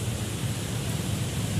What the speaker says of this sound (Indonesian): Cuaca pagi ini masih hujan,